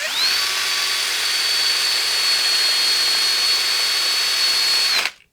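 Handheld drill spinning a large polishing wheel buffing guitar frets, a loud steady high whine that holds for about five seconds, then cuts off and spins down abruptly.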